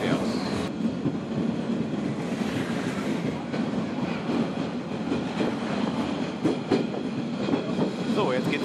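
The Molli narrow-gauge railway train runs like a tram through the streets of Bad Doberan, a steady rumble and clatter of wheels with occasional squeals, heard continuously at moderate loudness.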